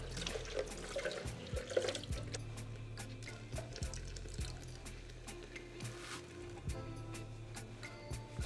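Water runs from a tap into a sink while a blender is rinsed out in a home kitchen, a faint steady splashing trickle with small drips and clinks, heard alone without talk.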